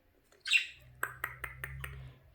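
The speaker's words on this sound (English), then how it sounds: "Cute, the bird." A pet budgie chirps indoors: a brief scratchy squawk, then a run of five or six quick, bright chirps at an even pace, close and clear over a low hum.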